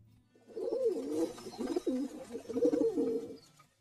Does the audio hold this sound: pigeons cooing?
yes